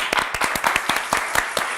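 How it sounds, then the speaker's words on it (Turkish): A short burst of clapping from a small group of a TV quiz show audience, sharp uneven claps in quick succession, fairly close. "İkinize de bir alkış istiyorum."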